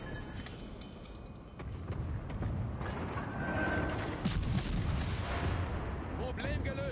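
Naval gunfire in World of Warships Legends: a run of booming shots and mechanical rumble under a dense, steady battle din, with a voice speaking over it.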